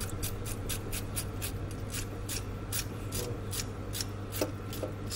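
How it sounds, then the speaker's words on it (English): A knife scrapes raw chicken clean in quick, regular strokes, a dry, rasping sound repeated steadily up close. "what you do is you scrape away from you."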